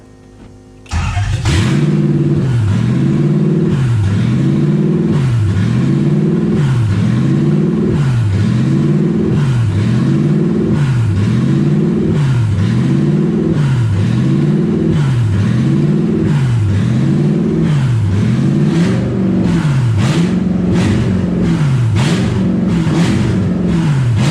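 A Ford Falcon's swapped-in Lexus 1UZ V8, with no exhaust fitted, starts abruptly and runs loud and close, its pitch rising and falling in repeated rhythmic revs without any talking.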